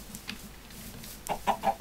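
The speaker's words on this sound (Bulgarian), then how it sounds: "Това е кокошка." Chicken clucking in a video game: a few short, soft clucks near the end, faint over a low background hum.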